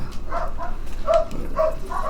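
A dog barks and yips in short bursts, a few rough barks spaced across the moment, heard indoors at moderate distance with no talk over it.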